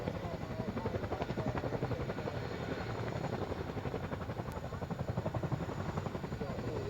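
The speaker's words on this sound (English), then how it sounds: "Having brought the helicopter to a stop, we'll now watch it slowly fly up and backwards." A military helicopter at an RAF airshow hovers and slowly climbs backwards, its rotor beating in a steady rapid chop with a continuous engine roar, moderately distant and unbroken throughout.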